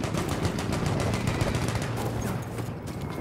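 A Madsen machine gun in a multiplayer shooter on the Ballroom Blitz map fires a rapid, sustained burst of close, loud shots with no pauses.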